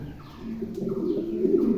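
Soft, low cooing from a pair of black African Mundian pigeons repeats close by in a quiet setting, rolling murmurs with no other voices.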